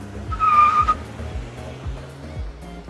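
A car skids to a stop with a short, loud tire squeal near the start, then fades into other background sounds.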